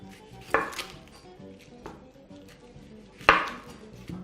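A knife chops a small amount of onion for a vegetable chapati wrap, striking a board twice with loud, sharp, well-spaced cuts and faint knocks between them, close by and with no talking.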